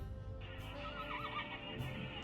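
A horse whinnies and neighs close by, a drawn-out, wavering call with faint clip-clop in the background.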